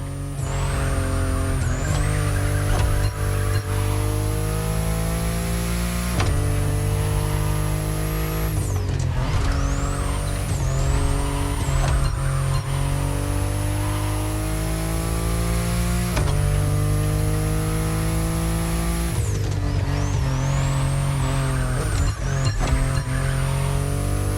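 BMW i8 hybrid sports car driven in the racing game The Crew Motorfest, a loud engine note rising and falling through repeated gear shifts, with a high electric whine and occasional tire squeal.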